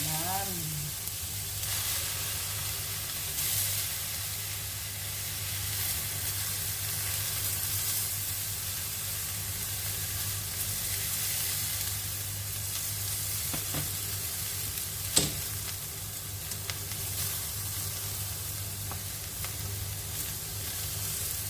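Giant eggplant frying in oil gives a steady, close sizzle that holds for the whole stretch, with a few small clinks, and a voice says a brief word over it.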